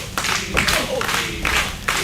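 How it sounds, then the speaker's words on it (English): Wrestling crowd at an AAPW event clapping in rhythmic bursts, a few sharp rounds of applause repeating, with a commentator's voice running over it. "Listen to that AAPW crowd."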